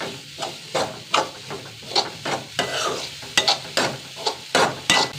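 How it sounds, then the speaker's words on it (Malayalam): Grated coconut roasts dry in a pan while a spoon scrapes and stirs it in quick, rhythmic strokes, each sharp scrape standing out over a soft continuous sizzle, close and clear. "തേങ്ങ ഒരു മുറി അതൊന്ന് വറുത്തെടുക്കട്ടെ കേട്ടോ നന്നായി വറക്കണം"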